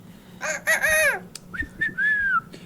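A person whistles an imitation of the Cristo fue bird call, a rural Colombian savanna bird: two bright, loud whistled phrases, the first rising and falling, the second a longer gliding note, close and alone.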